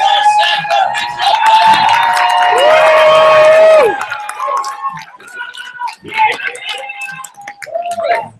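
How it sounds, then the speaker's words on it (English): An audience at a youth poetry slam bout cheers and whoops to welcome a poet onto the stage, a loud burst of shouts and yells that fades into scattered calls and a voice. "give a warm welcome, cheer her all the way up from Omaha, Benson"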